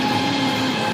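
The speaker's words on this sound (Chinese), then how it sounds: "给这等地铁。" A subway train pulls into a station with a loud, steady metallic rumble and faint high wheel squeal, close by, ending in a brief drop in level.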